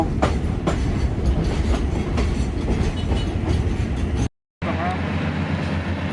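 A train rolls past on the railway near Bang Sue on the Lopburi–Bangkok line, with continuous loud rumble and wheel clatter close by and a brief cut before the passing noise resumes.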